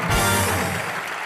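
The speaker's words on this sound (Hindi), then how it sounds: "रोशनी चोपड़ा के लिए जोरदार तालियां।" A studio audience breaks into loud, dense applause for Roshni Chopra on a comedy show's Diwali episode, a steady wash of clapping that holds strong for over a second with a faint musical tone underneath.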